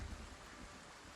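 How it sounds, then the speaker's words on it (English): Rain falls in the Foundation medieval city-builder game as a soft, steady hiss. It is faint and continuous, with no other sounds over it. "All right, the rain's coming in."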